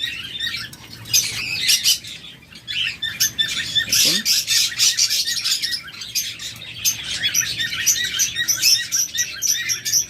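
A crowd of caged pet birds, including cockatiels and budgerigars, squawks and chirps in a bird shop, a dense, loud, continuous chatter of overlapping calls with brief flutters.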